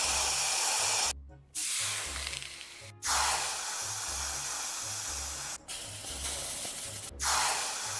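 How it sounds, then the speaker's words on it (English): Steam hiss made as a sound effect for a game: three or four long, loud, breathy bursts, each a few seconds long and separated by brief silent cuts, with a low hum underneath. "a steam sound effect."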